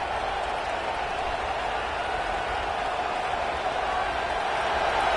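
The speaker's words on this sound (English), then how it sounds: "This crowd rising up, sensing that its defense needs some help." Stadium crowd noise from a college football video game, a steady, dense roar of cheering that holds level throughout and swells slightly toward the end, with no clear voices above it.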